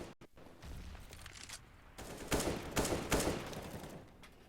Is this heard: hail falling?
no